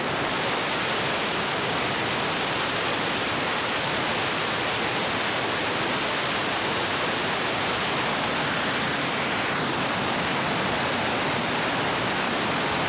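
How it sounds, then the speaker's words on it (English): A loud, constant roar of falling water in Banff National Park, dense and unbroken throughout, like a waterfall heard from close by on a rock ledge directly above. "And there's more of a waterfall right there."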